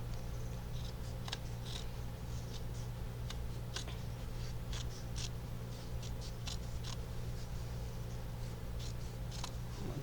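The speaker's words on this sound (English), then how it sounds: "I need to see if these scissors work." Scissors snip embroidery material in a string of small, crisp cuts over a steady low hum, close and fairly faint.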